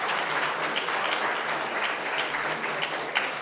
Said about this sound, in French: Voilà, on peut les applaudir.